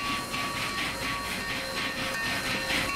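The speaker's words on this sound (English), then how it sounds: "And we have the Urban Games 4884 big boy. That is a very loud train." Urban Games 4884 Big Boy steam locomotive in Transport Fever 2, a steady loud rumble with rhythmic chuffing and hiss, close and continuous with no talk over it.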